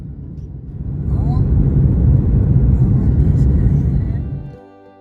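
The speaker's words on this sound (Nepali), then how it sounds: "प्लेनबाट बिफोर ल्यान्डिङ।" Airliner cabin rumble during the descent before landing in Kuala Lumpur, Malaysia: a steady, loud low roar that holds for several seconds, then drops away sharply near the end.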